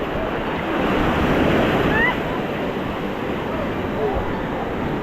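Sea waves wash steadily onto the shore at Tiruchendur beach, a continuous broad roar of surf mixed with wind buffeting the microphone, with faint voices in the background.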